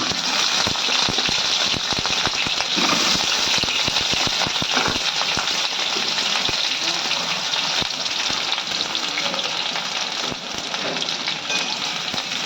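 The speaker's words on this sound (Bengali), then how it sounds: "আলুটা লাল লাল করে ভাজবো" Potatoes frying in hot oil in a home kitchen, a dense, steady sizzle and crackle with constant spitting that holds loud and even throughout.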